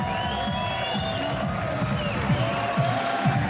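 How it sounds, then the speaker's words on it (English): A crowd at the 2023 Snooker Shoot Out cheers and whoops loudly and continuously after a maximum break, a dense roar of applause and shouts close by. "And listen to the noise of the crowd."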